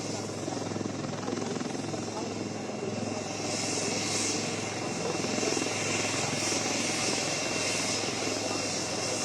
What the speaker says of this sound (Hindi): अब एक बार फिर से उनका हेलीकॉप्टर बेस पर लैंड कर चुका